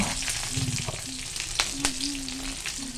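Green chillies and nigella seeds frying in mustard oil in a kadai, a steady close sizzle with crackling pops and a few sharper spits, no voices.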